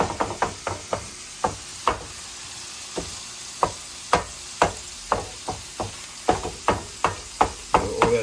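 Chopped cheese sandwich filling fries with melting cheese on a griddle, punctuated by a steady series of sharp spatula taps and chops over a low sizzle, with no talking.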